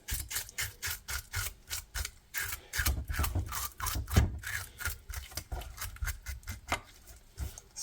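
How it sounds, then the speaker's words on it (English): A knife scrapes the scales off a crappie fish in quick, rhythmic rasping strokes, close and distinct, about two strokes a second for several seconds. "Scales come off very easy"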